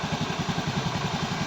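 Honda Beat FI scooter, about seven years old with 82,357 km on it, idling steadily after a repair: a close, even, rapid low putter with a faint clatter and no hesitation or stalling.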